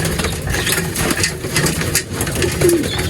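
Racing pigeons in a loft give soft, repeated coos over a busy, rustling background of flapping and scratching. A low engine-like hum runs underneath.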